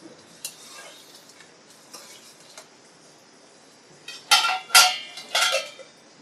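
Punjabi-style dry yellow moong dal is stirred in a pot. Faint scrapes come first, then three louder, close scraping strokes of a spoon against the pot near the end.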